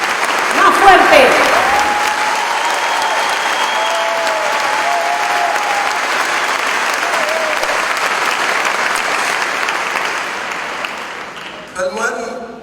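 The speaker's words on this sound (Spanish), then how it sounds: "Estos aplausos, dice, son todos para nuestro Señor." Loud applause from a large audience at a religious talk in Guadalajara, dense clapping that gradually thins and fades toward the end, where a voice briefly cuts in.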